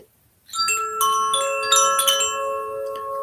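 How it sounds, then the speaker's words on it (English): A meditation bell rings with several bright metallic strikes, each leaving a long sustained shimmering tone that layers and slowly fades in a quiet room. "I'll ring the bell, and we'll do it for 9 minutes"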